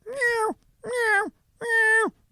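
A person imitates a cat's meow three times in a drawn-out, wailing voice, each call about half a second long with short pauses between, close and fairly loud.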